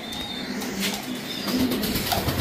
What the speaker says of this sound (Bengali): অনেক কবুতর দেখতে পাচ্ছেন